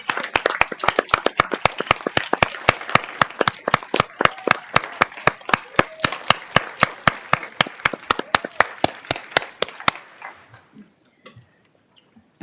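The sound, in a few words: applause at a county commissioners court meeting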